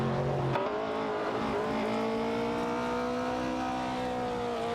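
Race car engines in an AI racing video game, an Opel Commodore battling a Porsche 906, drone with high, rising and shifting revs, several cars blending into a continuous loud roar with a short tone at the start.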